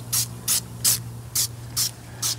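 Six short, sharp bursts from a trigger spray bottle put rubber cleaner on the tires of an E36 M3, evenly spaced and close, with a steady low hum behind them.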